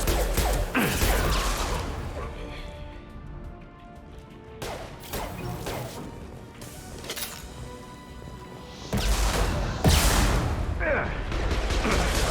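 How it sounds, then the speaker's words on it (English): Weapon fire and impacts from a concussive shot ability in the video game Mass Effect 2 Legendary Edition, loud bursts with crashes and whooshes amid ongoing combat clatter, with a voice speaking over part of it. "Firing concussive shot!"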